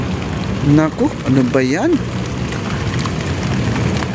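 Heavy rain pours onto concrete pavement along the Esplanade by the Pasig River, a loud, steady broadband hiss that continues throughout, with someone speaking briefly over it near the start.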